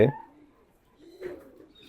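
A giribaj pigeon, panting in hot weather, gives a brief soft coo, faint and close.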